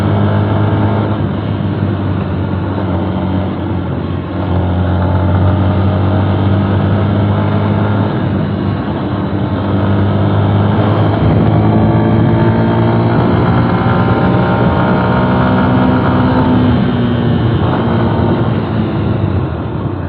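A Yamaha FZS motorcycle rides along a rough, poorly surfaced road, its engine droning loudly and steadily for the whole stretch, with a wind-buffeted roar over a low, continuous hum.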